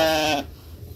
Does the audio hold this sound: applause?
no